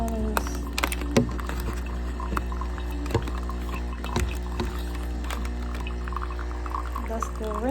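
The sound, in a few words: Nespresso Vertuo Plus coffee maker running its rinse cycle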